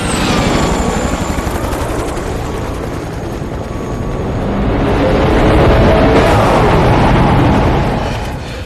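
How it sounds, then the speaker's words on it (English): A helicopter drones loudly and steadily nearby, its rotor and engine roar swelling and fading slightly as it flies, with no other sounds over it. "We need to set this chopper down"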